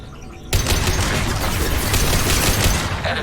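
Rapid automatic turret gunfire in Mass Effect 2 erupts after a brief quiet start, a loud continuous barrage of overlapping shots sustained for about three seconds.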